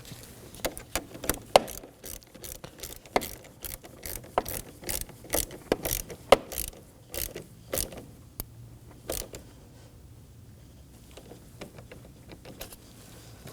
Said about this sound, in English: Make sure it's fully seated and snug it down using your 10mm.